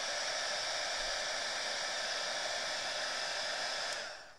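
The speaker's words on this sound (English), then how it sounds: "old embossing gun and kind of smells" An old heat embossing gun runs with a steady, loud, close blowing whir that holds evenly for several seconds and then starts to wind down at the end, with no voices.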